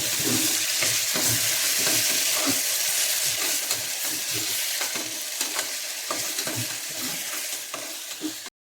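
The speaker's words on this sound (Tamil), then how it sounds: "நமக்கு அப்படியே கிளறி விட்டுக்கலாம்" Ginger-garlic paste and onions are stirred in a frying pot for egg biryani, with a steady sizzle of oil and repeated scraping strokes of the spoon close up and no talking.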